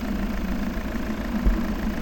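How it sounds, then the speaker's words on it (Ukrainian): A 2016 Volvo V70 with a 2.0-litre D4 four-cylinder Euro 6 diesel idling close up, a steady low rumble with an even beat and one brief knock partway through, no talking. "2 літра, вже 4 циліндровий він іде, дизельний двигун."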